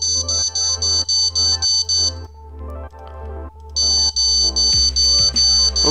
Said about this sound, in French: Les alarmes sont vraiment pas mal en final.